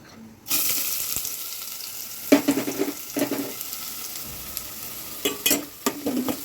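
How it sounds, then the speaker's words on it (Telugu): Finely chopped onions drop into hot oil for an egg pulusu and burst into loud sizzling, then crackle steadily while scraping stir strokes come and go. "ఆయిల్ హీట్ అయిన తర్వాత ఇందులో 1 కప్ ఆనియన్స్, సన్నగా చాప్ చేసి పెట్టుకున్న ఆనియన్స్"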